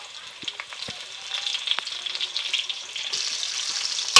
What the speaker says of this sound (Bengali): আলুটাকে একটু নাড়াচাড়া করে দিচ্ছি।